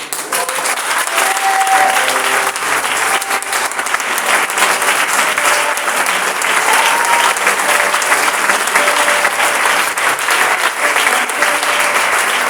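A church congregation applauds and cheers during a thanksgiving service, dense sustained clapping filling the space for the whole stretch with a loud, steady crowd roar.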